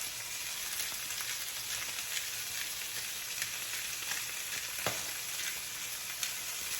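Salted and peppered meat searing in a hot pan, a steady loud sizzle that holds throughout with a few faint clicks, close and without talk.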